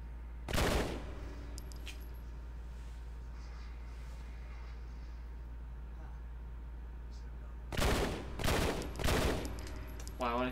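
Sharp bursts of gunfire in the video game Red Steel: one loud volley near the start, then several quick rattling shots late, separated by a quiet humming lull.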